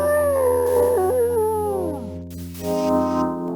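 A cartoon dog in the Koala Lumpur video game howls loudly and alone, a long wavering cry that slides down in pitch over about two seconds, followed by a steady background drone.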